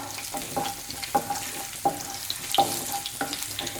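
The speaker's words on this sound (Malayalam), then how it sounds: "ഞാനിതിപ്പോ ഹൈ ഫ്ലെയിമിൽ തന്നെയാണ് വെച്ചിരിക്കുന്നത് ഒന്ന് ഇളക്കി കൊടുക്കാം" Ginger stir-fries over a high flame for egg bhurji, a bright crackling sizzle broken by sharp spatula scrapes against the pan about every second, near and fairly quiet, no voices.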